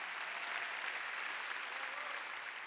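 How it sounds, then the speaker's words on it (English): A church conference audience claps steadily, a dense, even wash of many hands filling the room without a break and with no voices standing out. "clap today"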